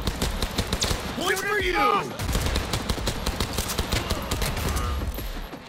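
Enemy guns fire in Cyberpunk 2077, rapid bursts of shots crackling steadily through the scene, loud and close, with a brief spoken line over the shooting.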